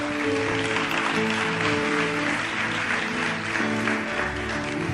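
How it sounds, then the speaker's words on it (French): Church congregation applauding loudly and steadily throughout, a dense crowd of clapping filling the room, with sustained tones from instruments or music underneath. "Est-ce qu'on peut acclamer très fortement le Seigneur?"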